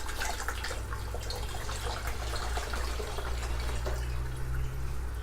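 Compost tea pours steadily, splashing and trickling through a mesh strainer, a constant close-up wash of liquid with a low hum underneath.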